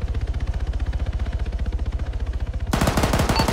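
Sustained automatic gunfire aimed at a BMP armored vehicle in a military video game, a steady rapid rhythm of loud close shots that grows denser and harsher for the last second.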